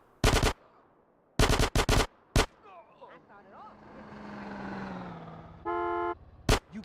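Gunfire in GTA San Andreas: short loud bursts of rapid automatic shots in separate clusters, with game engine and horn-like tones between them.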